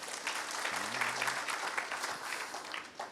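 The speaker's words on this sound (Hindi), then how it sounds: "ताली तो बजा ले" An audience at a spiritual question-and-answer session claps steadily for a few seconds at moderate volume, a dense, even patter with faint background murmur.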